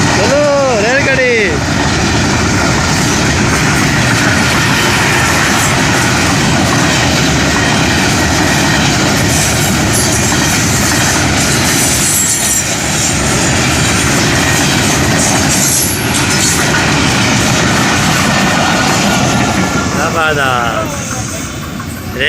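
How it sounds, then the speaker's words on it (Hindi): A train goes by close and loud, its heavy rumble and rattling wheels filling the whole stretch without a break. "ये देखिए ये आ गई रेलगाड़ी।"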